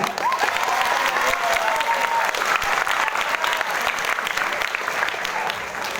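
A crowd applauds at an Islamic sholawat gathering and sermon for Isra' Mi'raj, with thick continuous clapping and a faint voice or tone early on, loud and sustained to the end.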